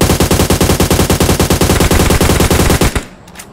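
Rapid automatic gunfire in PUBG Mobile, a loud close burst of evenly spaced shots lasting nearly three seconds before cutting off abruptly into quiet.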